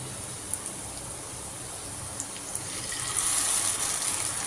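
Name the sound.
water mixture poured into mushroom masala pan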